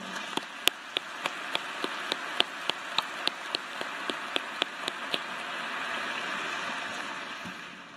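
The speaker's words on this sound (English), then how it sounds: "Let's please have a round of applause for this very special group." A graduation audience breaks into applause, a broad hiss of many hands clapping that swells steadily, with a few crisp individual claps standing out near the front.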